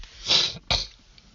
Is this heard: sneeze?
yes